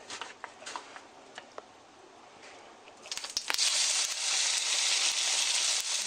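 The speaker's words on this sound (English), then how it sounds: "You want to hear a nice sizzle." Trout goes skin side down into a hot pan with a few light clicks, then bursts into a loud, steady hiss of sizzling that continues to the end.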